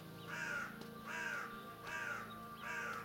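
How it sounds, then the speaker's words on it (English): A crow caws four times in a steady rhythm in a garden, the harsh calls moderately close and standing out clearly over quiet background. "All the birds are out today"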